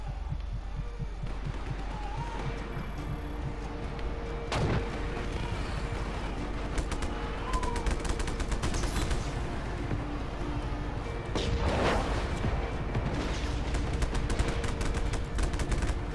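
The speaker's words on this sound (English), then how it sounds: "How are you shooting me from here?" Gunfire in the video game Just Cause 3 crackles in scattered bursts with heavier booming impacts around the middle and near the end, sounding fairly loud and continuous against a rumbling background, no voices.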